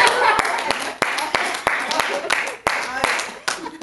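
A group of seniors at a Korean recreation class claps in a steady repeated beat, about a dozen crisp claps, while loud laughter and voices run underneath.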